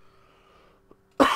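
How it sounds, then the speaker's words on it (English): A single sharp cough erupts close and loud at the end, after near-silence broken only by a faint tone and a tiny click. "I really have to apologize for the cough."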